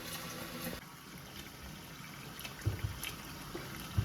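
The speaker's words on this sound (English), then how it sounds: "we're just going to fill our pot here with hot water" Hot water runs into a cooking pot for blanching peaches, a faint steady trickle and hiss with a few soft clunks near the end.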